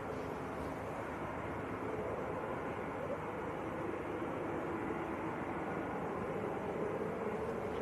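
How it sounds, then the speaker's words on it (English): An Emirates Airbus A380 jet bound for Dubai at Manchester Airport gives off a steady, unbroken broadband engine roar with some wind buffeting, holding an even loudness throughout. "So this is the A380 to Dubai"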